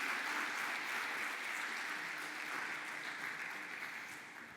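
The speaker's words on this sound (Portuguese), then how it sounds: "Uma salva de palmas." Audience applause at a panel discussion on space, land and people, steady sustained clapping from a crowd that holds even and then tapers slightly near the end.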